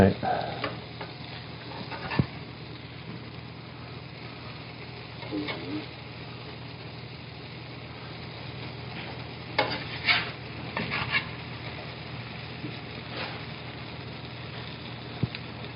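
Steady sizzling of a grilled cheese sandwich frying in a pan, with occasional clinks and scrapes of a utensil.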